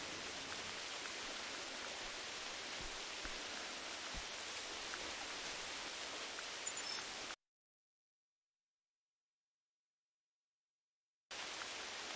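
Rain falls in the Hunter Classic hunting video game, a steady broadband wash that cuts out abruptly to silence for several seconds before returning.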